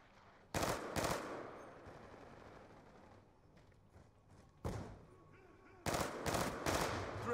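Gunfire in the video game Black Ops 2: a close two-shot burst, then a quieter stretch of game sounds, then another shot and a longer loud burst near the end.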